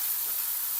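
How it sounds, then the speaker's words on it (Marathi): Chopped onion sautéing in a pan with a little salt and turmeric for a stuffed tomato curry gives a steady, close, bright sizzle with no voices. "कांद्याला परतून घ्यायचं"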